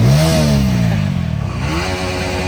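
A road motorcycle engine revs loudly and close, pitch climbing then dropping and rising again in a quick burst, with some mechanical clatter underneath.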